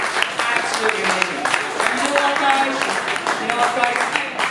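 Audience applause for Richard, a broadband patter of clapping hands that runs steadily through the whole stretch at moderate loudness, with no speech over it.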